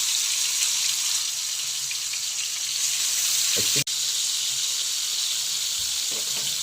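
Soft crabs (chimbori) frying in a pan with a steady broadband sizzle that runs throughout, broken by a brief clatter partway through.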